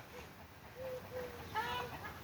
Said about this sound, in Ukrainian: І птахи розкричалися.